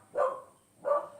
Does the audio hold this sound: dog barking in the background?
yes